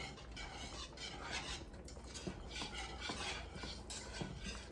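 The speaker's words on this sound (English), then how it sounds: "And I'm stirring. I can see the cheese melting." A spoon stirs melting cheese sauce for homemade mac and cheese in a pot, making rhythmic scraping and swishing strokes against the metal, close and quiet, with no talk.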